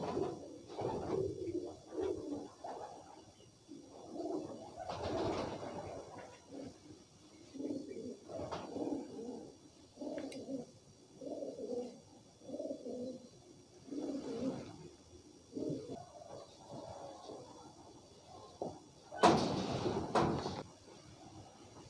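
Pet pigeons kept for pigeon fancying in Pakistan coo in repeated low, throaty bursts, steady and fairly close, with a brief rustle of movement near the end.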